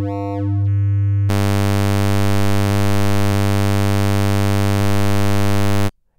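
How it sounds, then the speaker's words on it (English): A Reaktor Blocks synth tone is modulated by a triangle-wave LFO: a short shifting intro jumps into a loud, bright, steady buzzing note with slight pulsing that cuts off abruptly near the end, with no voices. "This is what happens with the triangle wave."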